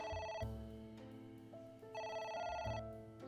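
A telephone in AI: The Somnium Files rings persistently in repeated electronic bursts, loud and close, with short gaps between rings and no talking over it.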